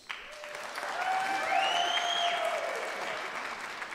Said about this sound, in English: by applause, how many of you know the music from Riverdance?